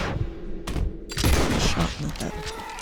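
Red Dead Redemption 2 gunfire: a few sharp, loud shots with short booming echoes crack out in quick succession over an outdoor snowy scene.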